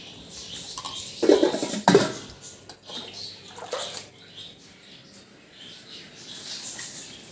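Water splashes into a simmering pot of Tamil-style fish curry with raw mango, in two short, louder bursts followed by a softer trickle and faint kitchen noise.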